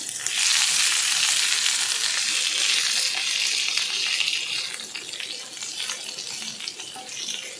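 A pointed gourd and potato curry cooks on the stove with a loud, continuous hissing sizzle close by that eases slightly toward the end, with no voices.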